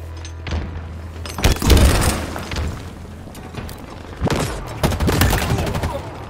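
Gunfire in the online shooter Halo Infinite: loud bursts of shots and booming impacts in two clusters, the first around mid-clip and the second near the end, over a steady low game hum with no talk.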